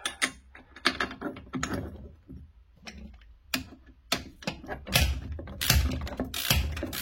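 A ratchet socket wrench with a 22 mm socket works on the suspension of a 2016 VW Sharan 7N2 during a DCC suspension retrofit, giving close, irregular bursts of sharp mechanical clicking and ratcheting, with short pauses between bursts.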